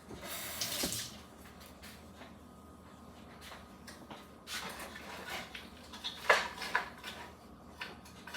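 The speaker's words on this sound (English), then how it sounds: "I'm going to add 1 more cup of water to it." A cup of water poured into a cooking pot while making Sunday dinner, a faint splashing trickle with light clinks of kitchenware and a brief louder splash near the end.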